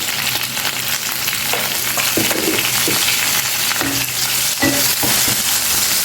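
Green chilies fry in a pan with a steady, loud sizzle, broken by a few scraping stirs of a spatula; nobody speaks.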